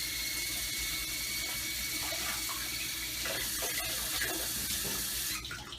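Hot tap water runs steadily into a kitchen sink while food is rinsed, a soft, continuous splashing hiss with small shifts as the items move under the stream.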